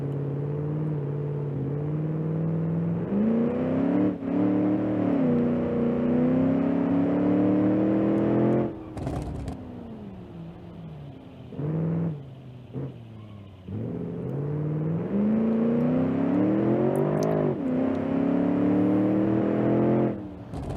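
In the BeamNG.Drive driving game, a car engine revs hard for burnouts in long rising and falling whines, broken by a few abrupt cut-offs and bursts before the revving resumes, loud and close.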